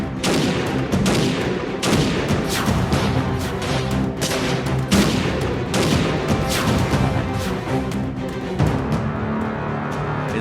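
Dense volleys of gunfire crackling continuously, loud and overlapping, shots landing in rapid irregular bursts with no pause throughout.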